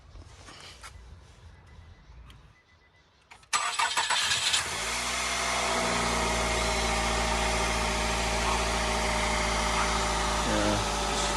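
2013 Nissan Altima with new spark plugs, after a rebuild, cranking and starting, then settling into a steady, even idle that runs loud and constant to the end after a quieter stretch of shuffling.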